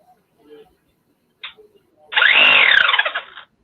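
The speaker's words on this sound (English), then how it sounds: "I just get the reciprocating saw." A battery-powered 24-volt brushless reciprocating saw runs in one loud burst of about a second and a half, after a few brief clicks and handling noises.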